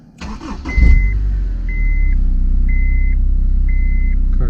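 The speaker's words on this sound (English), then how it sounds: "Car starts up." A 2004 Honda S2000 engine cranking and catching close by, rising to a roar then settling into a steady idle, while a warning chime beeps repeatedly at a regular interval.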